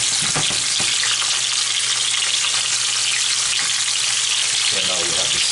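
A salmon fillet fries skin side down in a hot pan, giving a steady, loud, close sizzle that runs unbroken throughout, with a few soft clatters near the start and end.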